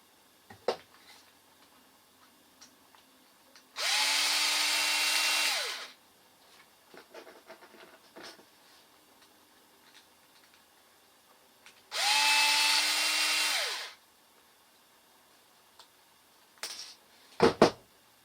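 A power drill backs two screws out of an RC car motor cover in two short, close whirring bursts separated by quiet handling clicks.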